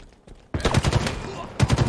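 Rapid automatic gunfire in the Halo video game during an online tournament match, loud bursts of shots starting abruptly and repeating near the end, with a player's voice underneath.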